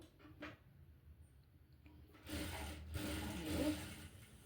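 A sewing machine stitches a folded hem on a cloth petticoat (chemise), starting after a quieter stretch of handling noise and then running as a steady, fairly close mechanical whirr until the end.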